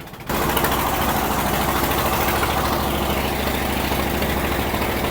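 A local boat's engine in Komodo National Park, Indonesia, starts up and runs loud and close, a constant heavy throbbing drone with strong vibration and no voices.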